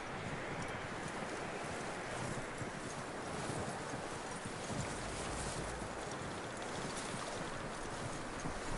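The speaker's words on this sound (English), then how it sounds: "That looks like a decent horse." Horse hooves clip-clop steadily at a walking pace in the video game Red Dead Redemption 2, faint and continuous, with soft windy noise in the background.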